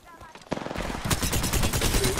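Gunfire in PUBG: a sharp shot lands, then a dense, continuous clatter of rapid shots and echoing blasts runs on, loud and close throughout.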